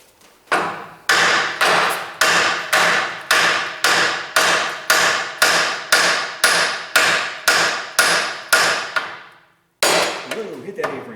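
A hammer strikes the steel A-frame of a Volkswagen Split-window chassis during dismantling, sharp metallic blows repeating in a steady rhythm about every half second, loud and close, with a pause before a final strike.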